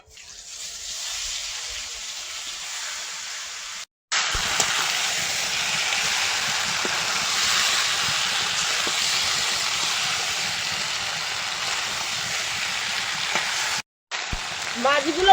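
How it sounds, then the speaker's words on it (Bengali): Sitapati fish going into hot oil in a wok, a loud, dense, steady hiss of frying that starts abruptly, runs continuously for about ten seconds with a brief break, and resumes near the end. "এবার তেলের মধ্যে মাছগুলো দিয়ে দেবো।"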